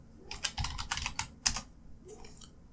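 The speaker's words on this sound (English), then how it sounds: "And then in your search bar, type in boost union." Quick bursts of keystrokes on a computer keyboard as a search term is entered on the moodle.org site, a close, fairly quiet run of clicks with a short pause partway through and no talking.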